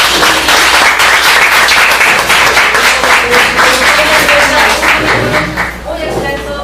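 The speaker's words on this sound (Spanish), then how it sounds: "Le damos un fuerte aplauso al maestro." An audience at a lecture gives a dense, loud round of applause for the presenter. It runs steadily for several seconds and then begins to thin as a voice comes in near the end.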